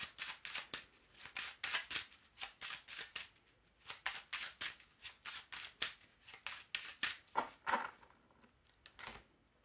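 A mirror oracle card deck is shuffled and cut by hand: a quick run of crisp, papery riffles and snaps in an uneven rhythm, close and clear, ending in a short quiet pause before a last flick.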